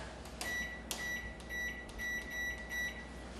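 A kitchen timer is set with a series of short, clear electronic beeps, about six evenly spaced chirps, heard close over a quiet room hum.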